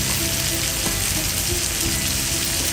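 Cherry tomatoes hit a hot frying pan already holding shrimp and orange rind for a flambe, giving a dense, continuous close-up sizzle with faint crackles and no talk.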